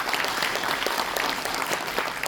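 An audience at a lecture on Busan as a world maritime capital claps for local fishermen, a dense, steady patter of applause at moderate distance.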